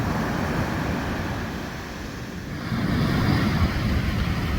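Ocean surf rolls onto a beach at Bandon, Oregon on a gray day, a steady close wash of breaking waves mixed with wind buffeting the microphone, swelling louder toward the end.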